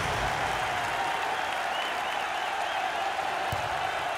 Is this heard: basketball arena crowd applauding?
yes